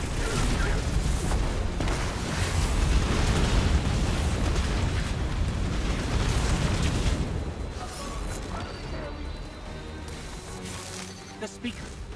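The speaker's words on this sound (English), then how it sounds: "Missiles! Watch out!" Missile explosions in the Destiny 2 video game, a loud rumbling barrage of blasts and booms for about seven seconds before easing into a lower roar, with voices talking over the action.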